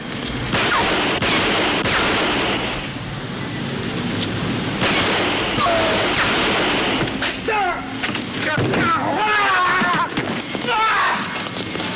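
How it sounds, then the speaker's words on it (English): Several gunshots ring out in a comedy film scene set around a bank robbery, loud sharp bangs over a busy mix of shouting voices and commotion, with more bursts scattered through the scene. "Shoot her, Nunzio"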